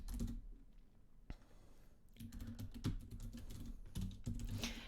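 Quick bursts of typing on a computer keyboard, clicky keystrokes coming in short runs with brief pauses between, close and fairly quiet.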